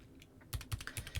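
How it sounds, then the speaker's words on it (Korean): A computer keyboard is typed briefly to enter a colour code, with about five to six distinct close keystrokes in quick succession after a short pause, and no talk. "곧바로 키보드만 이용해서"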